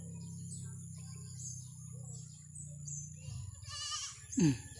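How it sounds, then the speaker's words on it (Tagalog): A goat bleats once in Quirino Province, Philippines, a short wavering cry near the end, after a steady low hum with faint background noise. "Ayan, ang kambing."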